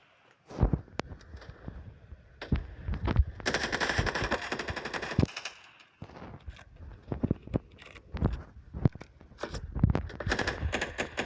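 Rapid automatic gunfire in the mobile shooter Standoff 2, with bursts of shots and a sustained stream of fire mixed with footsteps, loud and close throughout.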